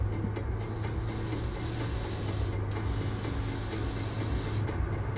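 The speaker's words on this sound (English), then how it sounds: "I'll put a few drops in my airbrush and see how it sprays" Airbrush spraying paint onto a part of a Revell Foose '68 Pontiac Firebird model kit, a steady close hiss broken by three brief pauses.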